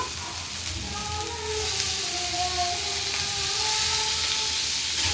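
Chopped tomato sizzles in a hot pan while being sautéed for a homemade eggplant bharit, a steady close hiss and crackle that swells slightly partway through, with no talking.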